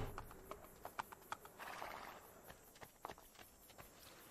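Horse hooves clip-clopping in the video game Assassin's Creed II, a faint, steady walking rhythm of hoofbeats with a soft whoosh midway, quiet and unaccompanied by talk.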